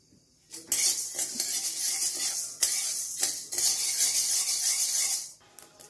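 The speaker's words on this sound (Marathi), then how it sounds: "चटचट आवाज येतो बघा." Wheat grains dry-roasting in a pan over a medium gas flame for thalipeeth bhajani flour, with dense crackling and scraping that continues steadily for about five seconds and no talk.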